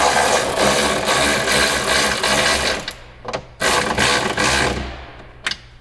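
A power tool drives 10 mm bolts on the rear spoiler of a 2020 Kia Stinger GT, first in a long whirring buzz, then in shorter bursts separated by brief pauses, loud and close.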